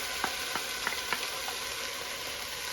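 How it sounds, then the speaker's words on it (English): Diced tomatoes hit a hot frying pan with a few soft thumps, then a steady, even sizzle carries on close by with no talking. "Now I'm going to put the tomatoes. So there are 4 large tomatoes diced."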